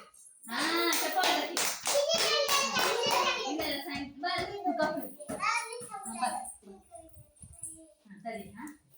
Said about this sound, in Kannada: ಹಾ ಚಪ್ಪಾಳೆ